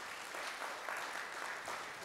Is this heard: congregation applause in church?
yes